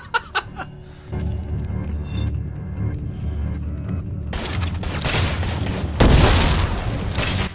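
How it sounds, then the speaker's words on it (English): Dead Rising 4 gameplay with the fish gun firing exploding fireworks swordfish, heard as a couple of sharp pops followed by a dense, sustained roar of bursts and crackling blasts that swells louder toward the end. "I thought you started shooting exploding fireworks swordfish"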